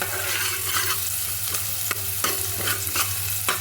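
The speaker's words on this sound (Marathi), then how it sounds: "कांदा चांगला भाजून घ्यायचा" Onion fries in a pan, sizzling steadily under repeated sharp scrapes and taps of a spatula stirring it, close and clear with no talking.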